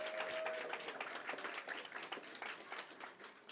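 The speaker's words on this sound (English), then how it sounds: "So, I mean, you deserve that applause" Audience at a maker-festival talk clapping, a faint, fairly thin patter of individual claps lasting the whole moment.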